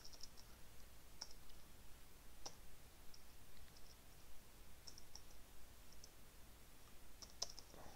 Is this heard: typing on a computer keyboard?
yes